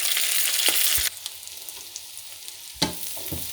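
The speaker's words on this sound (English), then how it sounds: "softening the garlic and the onion into the remaining oil in the pan until it's a little bit soft" Garlic and onion sauté in the oil left in a pan, a loud, close, steady sizzle that drops to a lower crackle partway through, with a few stirring clunks.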